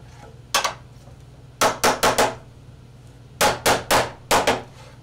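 A mallet strikes a chisel squaring shelf mortises on a wall-hanging hand-tool cabinet: sharp, close wooden knocks, one single hit and then quick clusters of three to four blows with short pauses between.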